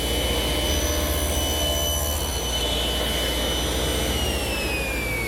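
A power saw cuts wood for the tenon on a chaise lounge leg, making a 30-degree cut. It gives a loud, steady whine with a constant rushing roar that runs unbroken throughout.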